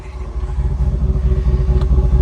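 A latest-generation Land Rover Defender 90 fitted with a Quicksilver exhaust system gives a deep, loud, steady rumble that pulses gently throughout, with no talking.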